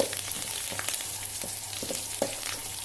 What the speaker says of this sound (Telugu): దీంట్లో టమాటా వేయించేస్తే వేయించి వేస్తే టేస్ట్ బాగుంటుంది